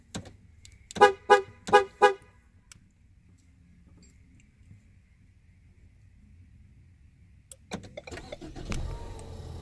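A 2014-19 Ford Fusion horn gives four short, sharp honks in quick succession close by, then quiet, followed later by clicks and faint mechanical noises.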